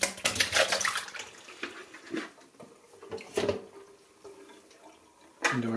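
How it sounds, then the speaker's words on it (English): Pickling brine with northern pike pieces is poured out of a container into a colander, giving a splashing, gurgling pour that fades to trickles and ends with a final splash. "So we've had our pike sitting in the brine for 2 days now. So gonna dump that out."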